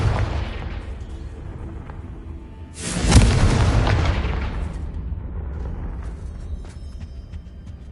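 A Confringo blasting spell in Hogwarts Legacy bursts into a sharp, loud explosion partway through, its boom decaying into a rumbling tail over low ambient game sound.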